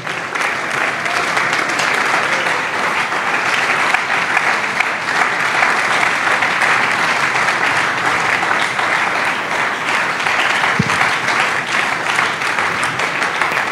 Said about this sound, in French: Si tu es béni, acclame bien.